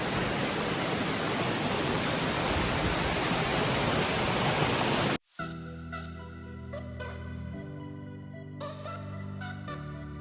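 A waterfall near Mt. Rainier roars as a dense, loud, steady wash of falling water, then cuts off abruptly halfway to quieter, tonal background sound.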